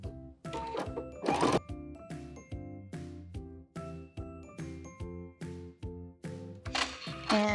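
A home sewing machine runs a seam through knit beanie fabric in a Carhartt-style hat, its needle chattering in short repeated bursts with brief pauses for a backstitch, close and clear with no talking.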